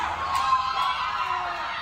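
Wrestling event crowd cheering and shouting at an indie show, a steady, dense roar of many voices, fairly loud and sustained over the short moment.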